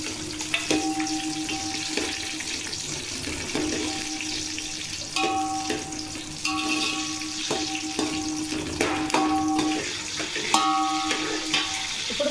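Green chilies fry in hot oil in a pan for coconut rice, giving a steady crackling sizzle with occasional stirring clinks throughout.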